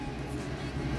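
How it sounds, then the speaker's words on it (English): Diesel heater running aboard a boat, a steady low mechanical hum and drone held close and constant through the whole moment, with no voices over it. "Diesel heater is installed and finally running."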